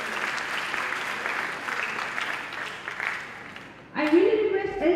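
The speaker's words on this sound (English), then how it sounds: "You can clap yourself and receive." An audience in a hall claps steadily for about four seconds, a dense, even patter of many hands, before a voice cuts in and speaks over the fading applause.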